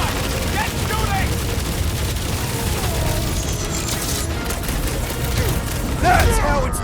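Rapid gunfire crackles through a chaotic shootout in the video game Guardians of the Galaxy, dense and continuous under music, explosions and character dialogue.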